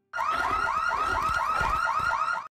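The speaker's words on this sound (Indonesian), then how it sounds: "dengan sengaja membunyikan alarm mobil" A car alarm blares in a steady repeating electronic whoop, cycling about seven times, loud and close, starting abruptly and cutting off cleanly at the end.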